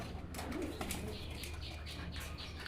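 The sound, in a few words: pigeons cooing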